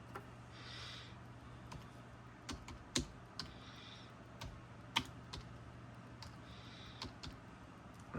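Sparse keystrokes and clicks on a computer keyboard while editing variables, a few sharp isolated taps over a steady low hum, close and fairly quiet, with no talking.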